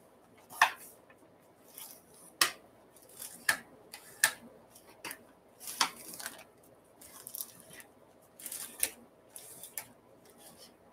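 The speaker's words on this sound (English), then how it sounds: "I'm going to use a bone folder and just get them as flat as you can." A bone folder pressed and rubbed over folded paper lunch bags for a mini album, giving irregular crisp swipes and soft crinkles close by in a quiet room, with a faint voice in the background.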